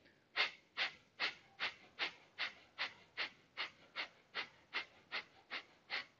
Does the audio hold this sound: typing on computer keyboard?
no